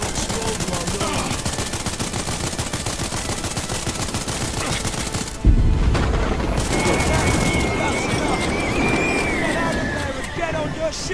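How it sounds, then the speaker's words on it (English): Gunfire in the game Starfield aimed at gas canisters: a fast, sustained rattle of shots, then a sudden heavy burst midway as the firing carries on, loud throughout with game noise layered underneath. "Now go and shoot the gas canisters until they catch fire."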